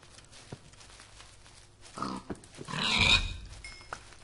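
Short grunts from Minecraft pigs come in a couple of bursts, followed by a louder, fuller snort near the end, with no one talking.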